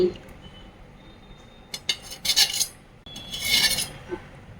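A spoon scrapes and clinks around a bowl, stirring sugar and ghee together in a few short bursts of gritty rubbing and light metallic taps, close and quiet.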